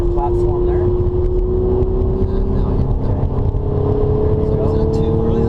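An Audi car accelerating on a driving track, its engine a steady droning tone that rises slowly in pitch as the throttle is eased on, loud and continuous with road and wind noise beneath.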